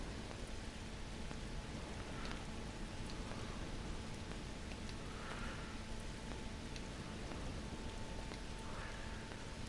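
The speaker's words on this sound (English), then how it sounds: "Wow, rain on Ryza. I guess they haven't installed the weather control systems yet." Rain falling on the planet Ryza in the video game Star Trek Online, a soft, steady hiss of drops with faint scattered patters throughout.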